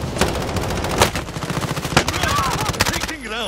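Rapid automatic gunfire in the video game Warzone, dense bursts of close, loud shots cracking continuously, with a few voices faintly underneath.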